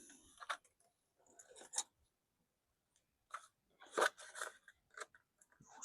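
Scissors snip through cling film wrapping parts from a Titanic model kit, giving a few short, sharp crunching clicks in close, irregular bursts with quiet gaps and no talking.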